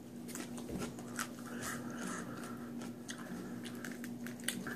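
Close, quiet crunching and wet chewing as someone bites into a thick-walled, very crunchy, juicy Pelso pepper, with steady mouth clicks and squishes over a low constant hum.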